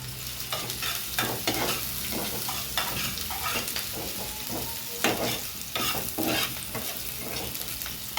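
Green chillies fry in hot oil while being stirred, producing loud, busy sizzling with repeated scraping strokes of a spatula close by, no speech over it.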